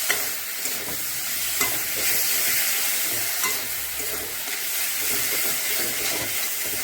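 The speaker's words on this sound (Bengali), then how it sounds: "মশলাটা ভাজা তো, তেমন বেশি না ভাজলেও চলবে।" Ground spice paste frying with fish in a hot pan, giving a steady, close sizzle and hiss with scattered crackles and occasional stirring scrapes throughout, with no talking.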